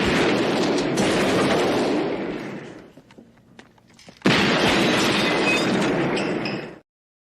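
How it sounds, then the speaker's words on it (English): Dense bursts of gunfire and blasts fill the air, dropping to a few scattered pops in a brief lull before another loud barrage erupts and then cuts off. "I think I hear gunshots."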